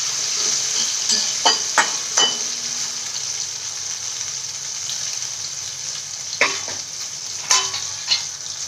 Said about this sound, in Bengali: আলুটা আমি একটু সাঁতলে নিয়ে